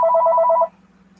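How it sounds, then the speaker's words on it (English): A phone ringtone plays a rapid, steady electronic trill for about two-thirds of a second, loud and close, then cuts off abruptly, leaving only a low hum. No one speaks. "No, that was the ringtone."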